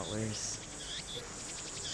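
Cicadas chirping in the Steins;Gate visual novel, a dense continuous insect drone with pulsing high trills, with a brief faint tone near the start.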